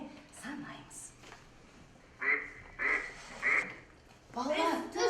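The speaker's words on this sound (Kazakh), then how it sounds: "үйрек неше рет шақырды?" A duck quacks in three loud, distinct bursts, spaced about half a second apart, following a softer stretch at the start.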